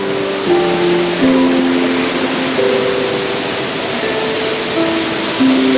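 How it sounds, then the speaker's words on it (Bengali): A fountain in Singapore splashes steadily, a broad, continuous watery rush close by, with faint tonal sounds from the surroundings drifting in and out over it. "আর ওই পাশে একটি ঝর্ণাও রয়েছে"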